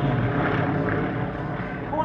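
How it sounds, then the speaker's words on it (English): Yak-52 and four-seat Yak-18T propeller aircraft fly a formation aerobatic display at a warbird airshow, their engines a steady, loud drone that holds throughout, with faint voices underneath. "formation aerobatic display by Yakko team, comprising 2 Yak-52s and a 4-seat Yak-18T"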